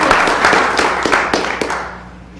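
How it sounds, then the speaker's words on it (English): Sparse, scattered clapping from a small town board meeting audience honoring an absent kindergarten honorable-mention award winner, a handful of sharp claps over a dense patter that thins out and fades by the end. "She's not here, but you can still give her a round of applause."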